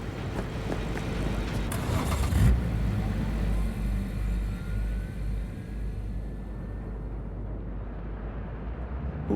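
A car in Cyberpunk 2077 drives off with a steady low engine rumble and road noise, a brief louder thump partway through, then the engine settles into an even, fading drone.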